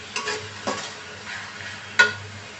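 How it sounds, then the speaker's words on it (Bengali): Onions and garlic frying in oil in a pan for a sweet-sour-spicy mango pickle, a soft steady sizzle broken by a few sharp stirring scrapes and clinks, fairly quiet and close, with no talking. "এগুলোকে এখন লাল করে ভেজে নেব।"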